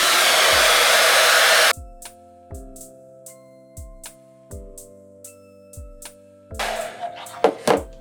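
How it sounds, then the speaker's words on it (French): Hair dryer blowing on wet gold paint on a craft piece: a steady loud whoosh that cuts off abruptly, then returns briefly near the end, with pauses of quiet in between. "on peut tricher et à l'aide d'un sèche-cheveux"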